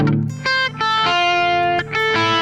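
The opening of a song played on electric guitar with raking: bright, slightly distorted chords sound in a steady pattern, each new strum cutting in with a quick muted scrape, close and loud with no voice.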